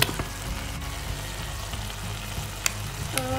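Pasta mixed with chili mayo is stirred in a hot pan, producing a steady close frying sizzle with a few sharp spoon clicks and scrapes against the pan.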